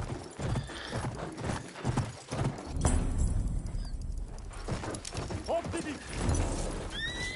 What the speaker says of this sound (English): One horsey, let's go.